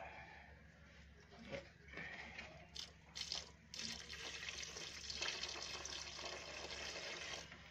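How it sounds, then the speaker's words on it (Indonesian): Ten liters of water being poured steadily into a liquid soap base mixture, heard as a continuous soft splashing and gurgling pour that grows slightly fuller, faint and close. "Kemudian kita masukkan 10 liter air."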